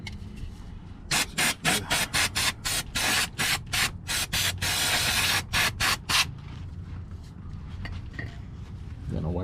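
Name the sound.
spraying brake cleaner through a straw, Toyota Prius maintenance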